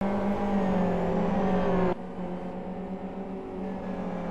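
GT race cars roar past during a Super GT championship race, a loud sustained engine drone that shifts abruptly midway as one car passes and another follows, the pitch steady and dense with no talk.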